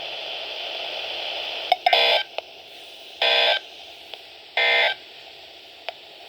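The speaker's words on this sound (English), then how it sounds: "the National Weather Service has just activated the public warning alarm tone in the test" NOAA Weather Radio broadcast during a required weekly alert test: a steady electronic tone over radio hiss, broken by three short, harsh data-burst squawks and a few sharp clicks.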